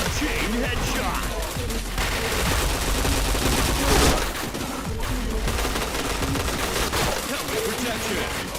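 Gunfire in a shooter video game, sustained bursts of shots and heavy booming impacts layered over a constant roar, loud and dense, with game voice callouts mixed in.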